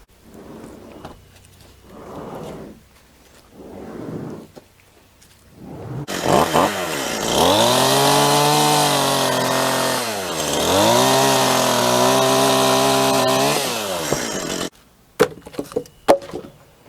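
A portable sawmill cuts through an oak log with a loud, sustained whining blade that dips in pitch partway through. Brief quieter sounds come before the cut, and a few clunks follow it.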